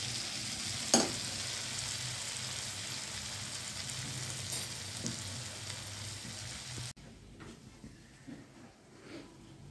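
Masala and potatoes sizzling on a low flame, a steady close hiss with light stirring scrapes that drops abruptly to a quieter simmer partway through.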